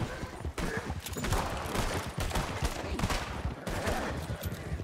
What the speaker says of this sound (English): Oh, he's shooting us.